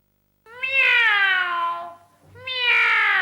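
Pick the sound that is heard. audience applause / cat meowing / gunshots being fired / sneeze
cat meowing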